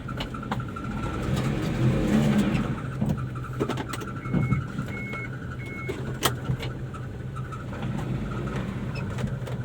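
A modified automatic 4x2 pickup truck, fully loaded, creeps forward with a steady low engine hum and mild revving, plus faint mechanical clicks and a few brief beeps, all fairly close with no speech.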